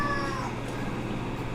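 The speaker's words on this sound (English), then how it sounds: "my cat, who is very old, so he sounds a little bit like a pterodactyl" A very old house cat lets out one drawn-out, raspy meow at the start, fairly faint against a steady indoor hum and kitchen background.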